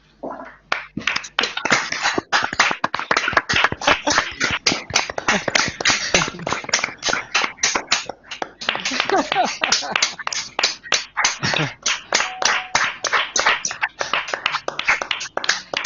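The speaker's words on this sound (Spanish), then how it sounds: "podéis abrir micrófono para que aplaudamos a Andrés, porque como siempre nos hace pensar. Por favor, vamos a aplaudir" Online audience applauding over open microphones, many uneven claps and taps overlapping in a dense, close patter that continues throughout, with a few voices mixed in.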